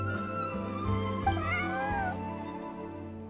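A cat meows in Genshin Impact during a cozy in-game scene, its drawn-out, wavering cry rising and falling over a steady bed of background music, close and clear with no talking.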